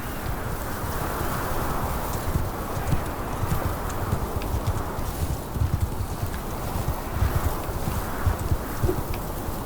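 Horse hooves clip-clop in a steady, continuous rhythm in the medieval war game In The Name Of Jerusalem II, with a constant breezy wind-like rush underneath and no voices.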